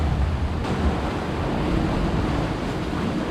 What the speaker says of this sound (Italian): il primo scoglio dove avevo deciso di posizionarmi viene regolarmente inondato dalle onde in crescita